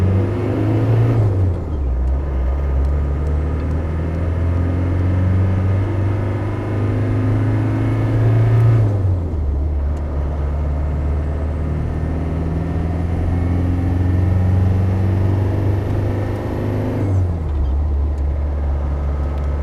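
A 1994 Land Rover Defender 90 engine revs up through three rising runs, each falling off after a gear change, with a steady close, loud drone and no talk.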